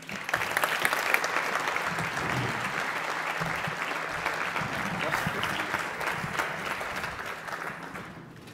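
Audience applause welcomes a speaker to the stage at a talk on artificial intelligence and cyborgs, a steady dense roar of many hands lasting throughout and fading out at the end.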